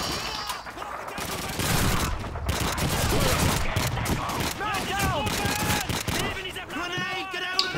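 Rapid weapon fire from Call of Duty 2 crackles in quick bursts and fusillades, dense and fairly loud, with a voice talking over parts of it.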